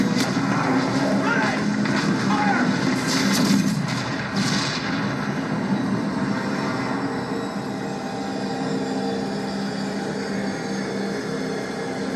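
A heavy cannon blast booms out with a sharp crack and long rolling echo, followed by ongoing low Civil War battle noise and distant shouting.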